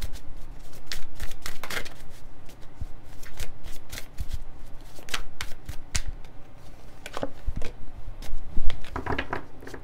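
Tarot cards are shuffled by hand in a steady, continuous flurry of crisp riffles and slaps, close and fairly loud, with no talking over it.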